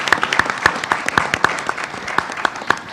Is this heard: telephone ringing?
no